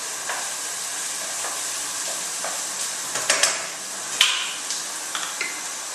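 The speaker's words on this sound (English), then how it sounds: "So now I just want to sweat these onions off a little bit" Onions sweat in a hot pan with a steady, close sizzling hiss, and a few light scrapes and taps from stirring come near the end, with no talk.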